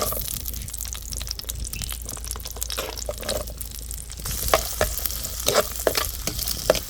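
Shallots hitting hot oil for a quick Kerala-style mango curry, a steady close sizzle and crackle throughout with sharper spits and stirring clatters building toward the end.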